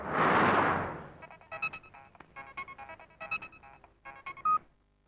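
A burst of rushing noise gives way to a quick run of telephone keypad dialing tones, a dozen or so short beeps of varying pitch in irregular rhythm, clear and close.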